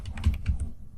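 Quick bursts of keystrokes on a computer keyboard, a short run of close, crisp clicks in an uneven rhythm, alone in a quiet room.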